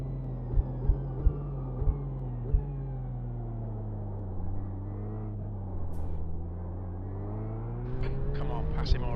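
GT3 race car engines drone in iRacing at Monza as a car exits the pits, a steady humming whine that slowly shifts in pitch, with a few sharp clicks early on and a louder rise near the end.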